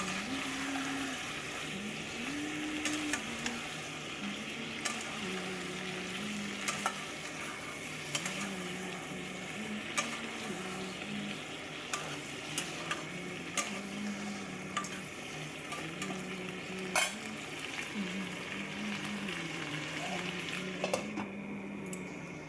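Pumpkin and potato being stirred and cooked in a pan, a steady low sizzle and bubbling with scattered faint scraping and ticking of the spoon, continuous and close, with no voices.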